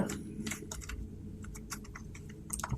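Computer keyboard keys tapped in quick, light, close-up clicks, an irregular burst of keystrokes including Enter presses, fairly quiet and without any talk.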